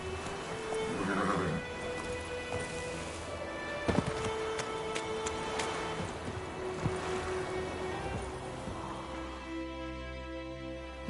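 Roach, a horse in the video game Witcher 3, galloping with clip-clop hoofbeats and letting out a whinny, set against soft ambient game sound.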